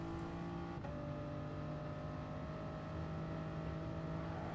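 Toyota GR Supra race car in Gran Turismo Sport at the Nurburgring, engine holding a steady, sustained drone with a slight pitch shift early on, moderately loud and alone.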